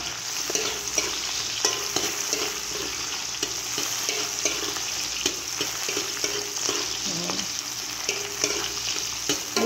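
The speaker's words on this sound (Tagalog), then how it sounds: "Medyo pustahin natin yung sibuyas" Sliced onion sautéing in a pan for Filipino pochero, a steady frying sizzle running throughout with occasional stirring scrapes, close and fairly even, no voices.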